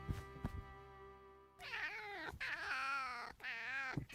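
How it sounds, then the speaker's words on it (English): A cat lets out loud, drawn-out wailing meows with sweeping, warbling pitch, several in a row close up, preceded by a brief steady tonal hum with knocks. "That's such a crazy meow. It's so distinct."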